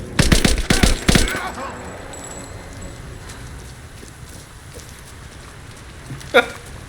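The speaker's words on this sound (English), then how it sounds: "just a little bit of gunfire" A quick burst of rapid video game gunfire crackles at the start in Rise of the Tomb Raider, then fades into a low ambient rumble with a faint shot near the end.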